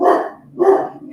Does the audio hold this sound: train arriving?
no